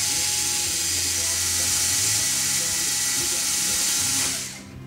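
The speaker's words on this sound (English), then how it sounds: "I'm going to drill my other hole" An electric drill bores a hole in an RC plane airframe during a model build, a steady close whine running for several seconds before winding down at the end.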